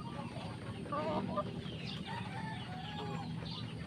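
Chickens cluck and a rooster crows at a farm, quiet and somewhat distant, over a steady background hum with faint voices nearby.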